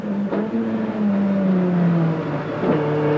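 Onboard a race car in the 1991 Bathurst 1000, the engine drones loud and close, its pitch falling steadily, with two short breaks in the note as the driver shifts gears.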